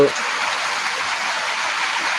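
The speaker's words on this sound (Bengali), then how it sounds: "সেই সকাল থেকে শুধু বৃষ্টি আর বৃষ্টি প্রচুর বৃষ্টি হচ্ছে" Heavy rain falls steadily in a dense, even hiss that holds unbroken throughout, close and fairly loud, with no voices heard.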